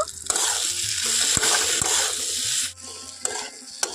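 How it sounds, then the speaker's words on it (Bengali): A spoon scrapes and stirs fried bitter gourd and potatoes into masala in a pan, with clinks of utensil on metal, a hissing sizzle underneath and a brief pause before more stirring. "উচ্ছে আর আলুগুলো দিয়ে খুব ভালোভাবে মশলার সঙ্গে মিশিয়ে নেব"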